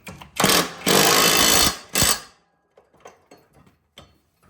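An impact wrench rattles in three bursts, one short and two longer, tightening bolts on a John Deere riding mower, close and loud, followed by quiet faint clicks and handling noises.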